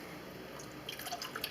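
Home-distilled water poured into a pot for cranberry jelly, a steady close splashing stream with brighter droplet plinks building toward the end, no voices.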